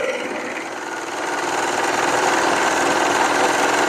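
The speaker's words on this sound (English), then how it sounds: "I've got this little guy set up just on a regular old 4-thread machine right here" A 4-thread overlock machine runs steadily while sewing a rolled hem on a special occasion dress, giving a loud, continuous mechanical whir that holds level throughout with no talking.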